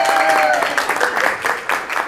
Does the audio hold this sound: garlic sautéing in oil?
no